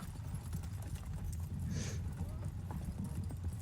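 Two donkeys pulling a cart clip-clop steadily along, close and fairly loud, with a rumbling undertone and a brief high squeal near the middle.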